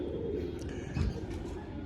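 Soft, low cooing close by from an old Kalduma breed pigeon, a brief throaty coo swelling near the middle over a steady background hum.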